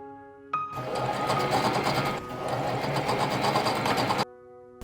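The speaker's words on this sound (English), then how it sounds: "Then sew the front and the back together." A sewing machine stitches a silk dress's front and back together in one steady, rapid mechanical whirr lasting a few seconds, close-up, starting and stopping abruptly over quiet background music.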